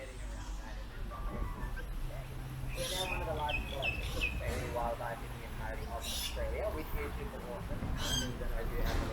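Birds call and chirp repeatedly at moderate distance in a Sydney wildlife park over a steady background hum, with people talking faintly nearby.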